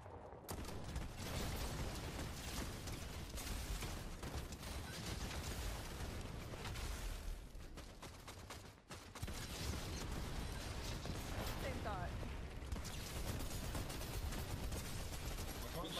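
Dense, continuous video game gunfire with rocket blasts, a loud and relentless barrage that dips only briefly near the middle before resuming at full intensity.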